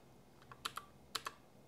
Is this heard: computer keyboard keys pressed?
yes